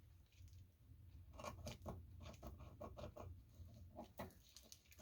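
Quiet, close snipping of dull scissors cutting paper, a series of short crisp cuts in uneven rhythm, with no voices.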